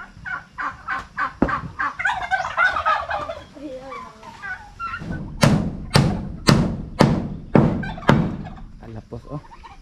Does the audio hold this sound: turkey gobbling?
yes